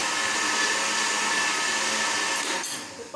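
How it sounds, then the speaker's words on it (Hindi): An electric grinder blends a mango milkshake with a loud, steady motor whir that holds nearly the whole time, then shifts and drops near the end. "ग्राइंडर को ऑन करते हैं"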